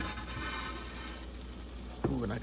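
Hot links crackling and sizzling in an air fryer basket, a steady soft fizz close by with a brief clatter near the end.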